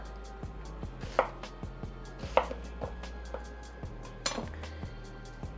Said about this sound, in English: I'm just going to do 3 chops like this because I don't want my pieces to be too small